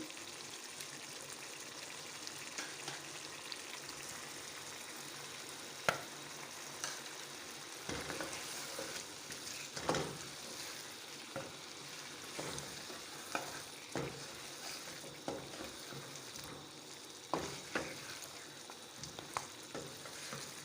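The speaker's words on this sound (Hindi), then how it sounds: "अब हम 10 मिनट इसको अच्छी तरह भून लेंगे।" Mutton chops with green chilies fry in a pan for about twenty seconds. A soft, even sizzle runs throughout, broken by occasional louder scraping stirs at irregular intervals. No one speaks.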